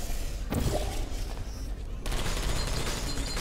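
Automated turrets firing in Portal 2 co-op, a dense burst of rapid gunfire crackle with thuds, loud and close, ending abruptly then resuming as a steady barrage.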